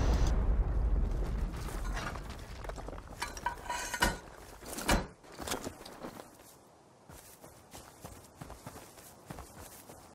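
Rockets blast into a stone and metal base during a raid in the video game Rust, a few sharp thuds and bursts over crumbling debris and clattering footsteps, fading to quieter rubble noise.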